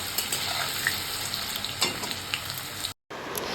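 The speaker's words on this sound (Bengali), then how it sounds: "এইদিকে কিন্তু বসিয়ে দিয়েছি মানে ভাজতে দিয়ে দিচ্ছি হচ্ছে আলু" Potatoes fry in a pan for a vegetarian paneer curry, giving a close, even crackling sizzle with small pops; it cuts to silence briefly before the sizzle resumes.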